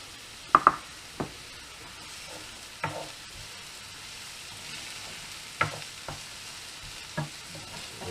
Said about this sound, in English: I've broken the mince up the same as the last recipe, and we're going to cook it in exactly the same way.